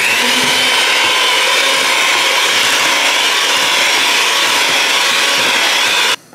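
An electric mixer blends egg into pumpkin cheesecake batter with a steady, loud whirring hum that runs unbroken for several seconds, then cuts off abruptly near the end.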